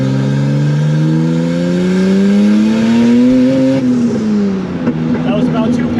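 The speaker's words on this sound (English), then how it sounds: "Get some nice pops on the shift." Turbocharged widebody BMW E30 revs up loudly close by, the engine tone rising steadily, then it shifts gear and the exhaust lets out a quick crackle of pops as the revs drop.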